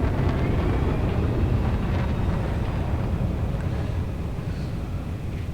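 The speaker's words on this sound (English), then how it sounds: "Afterburners engaged." Roaring spaceship afterburners boosting in a video game, a dense, steady broadband rush with a deep low rumble that holds loud and continuous throughout, with no voices.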